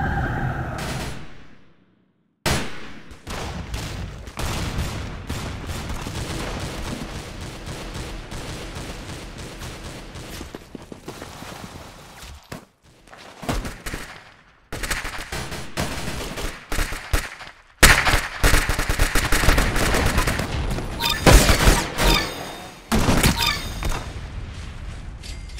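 Rapid sustained gunfire from a minigun in the Roblox shooter Arsenal, loud bursts with brief gaps and mechanical clatter, alone with no talking.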